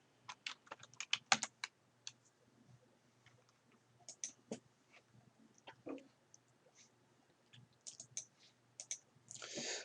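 Computer keyboard keys tapped in short irregular bursts while entering a file name in Word 2013, close, crisp clicks separated by brief pauses, with a denser rattle at the end; no one talks.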